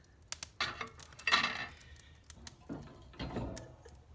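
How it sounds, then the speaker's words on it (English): Metal heat deflectors set into a grill while it heats for smoking St. Louis spare ribs over indirect heat, giving a handful of quiet metallic clanks and scrapes spread irregularly across the span with no talking. "So I'm going to put our heat deflectors"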